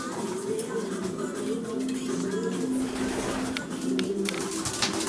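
Racing pigeons coo softly and repeatedly in low, rolling calls over faint background noise.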